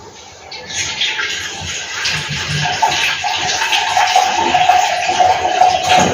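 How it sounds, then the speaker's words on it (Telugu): A healthy homemade drink being strained through a filter, giving a steady wet pouring and trickling of liquid with light handling noise, moderately close and continuous throughout. "ఇప్పుడు ఫిల్టర్ చేసేస్తున్నాను"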